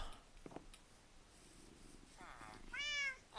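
A cat meows in the Minecraft video game, faint and low at first, then a couple of rising, wavering meows close to the end, the last one clearest.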